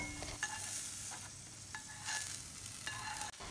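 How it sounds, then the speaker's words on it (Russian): Sweet and hot peppers frying in a pan, a constant low sizzle with a few faint stirring scrapes and clicks, fairly quiet and close, no voices. "Затем обжариваю сладкий перец вместе с острым перцем."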